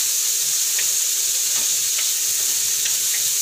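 Pork liver sautés in hot cooking oil for menudo, giving a steady, close sizzle with faint crackles and a few brief stirring clicks, no talking.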